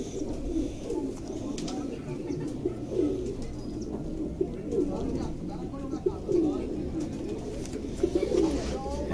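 Breeder pigeon pairs coo over and over, with soft rolling calls close by. They sound over a constant low hum, and people talk at times in the background.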